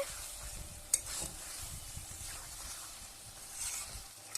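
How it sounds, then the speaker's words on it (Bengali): Jackfruit, potato and chicken pieces sauté in a pan with a continuous close hiss and sizzle, while a spoon scrapes and stirs now and then, with one sharp clink; nobody speaks. "রান্নাটিতে কাঁঠাল, আলু আর মাংসগুলোকে ভালো করে কষিয়ে নিতে হবে।"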